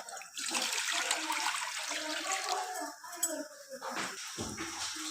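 Water pours steadily into a metal pan of rice, a rushing gurgle up close that tapers off with a few splashes near the end.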